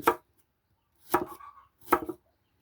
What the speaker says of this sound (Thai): หั่นเป็นชิ้นน้อยๆพี่น้อง